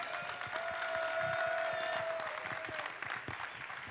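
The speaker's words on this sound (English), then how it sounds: "I'd also like to give a round of applause, please, for our head judge today, Mr. Stuart Hargy." Sustained applause from the audience at the 2015 World Barista Championship final in Seattle, honoring the head judge; dense steady clapping fills the hall with a faint tonal hum running beneath it.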